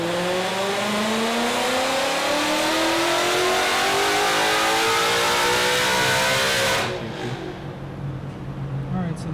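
A Ford Shelby GT500 with a swapped race intercooler core revs hard on a dyno, its loud engine note climbing steadily for about seven seconds before cutting back, close and dominant throughout.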